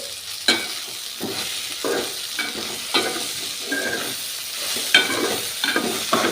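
Tomato, cluster eggplant and gongura pieces fry in a pan while being stirred, a steady sizzle broken by distinct scraping stirs and clanks of the spoon, close and fairly loud with no talking.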